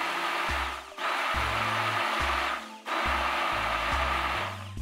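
An immersion blender whirs in bursts as it mixes a thickening batch of homemade soap mass, two long loud runs with a short pause between them, no talk.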